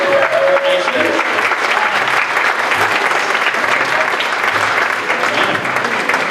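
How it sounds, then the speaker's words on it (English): A cabaret show audience claps in sustained applause, dense and steady, with a few voices briefly audible underneath. "they're going to give you a big round of applause"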